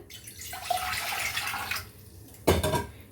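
Water splashes steadily into a cooking pot on a stove for steaming sweet potatoes, a rushing pour lasting over a second, then a brief louder splash and clatter near the end.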